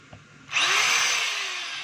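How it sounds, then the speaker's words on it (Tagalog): A DeWalt D25032 rotary hammer drill, with a hammer action partly engaged through its selector, switches on after a brief quiet moment and runs loud and steady for over a second, its high whine holding level with no talk over it. "So testing natin yung drill."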